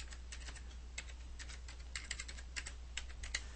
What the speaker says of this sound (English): now I'm going to type in